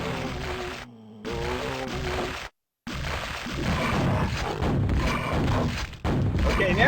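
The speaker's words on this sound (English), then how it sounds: "That's a grenade launcher." Grenade launcher fire in the Quake 2 shooter: heavy booming thuds land amid dense, continuous game noise, with a brief total dropout partway through.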